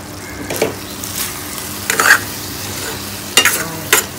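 Potatoes and long beans stirred in a hot pan as a curry cooks, giving soft scraping and sizzling bursts of the spoon at intervals over a low frying hiss, close up, no voices.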